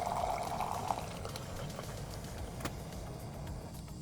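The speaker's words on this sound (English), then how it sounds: "you can stop the water flow at any time by pressing the dispense button again" Hot water runs steadily from the dispenser spout of a JIMMY R9 countertop water filter, a continuous faint hiss and trickle with a brief click partway through and no talking.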